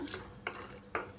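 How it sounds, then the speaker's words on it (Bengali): A tempering of cinnamon, cardamom and cumin sizzles faintly in hot oil, with two quick spatula scrapes across the pan during a brief stretch. "ফোড়নটা একটু ভেজে নিচ্ছি এটা করে"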